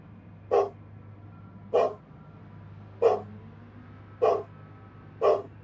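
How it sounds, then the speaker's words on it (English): A single dog barks alone, five evenly spaced woofs about a second apart, over a steady low indoor hum. "Well, dog's barking."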